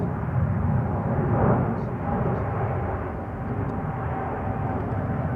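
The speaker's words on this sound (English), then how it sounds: "KLM 100 years livery taking off from center" A KLM Boeing 787-10 Dreamliner in 100-years livery takes off from the center runway at Schiphol, a steady, broad jet roar heard from a distance that swells slightly and then holds at an even level throughout.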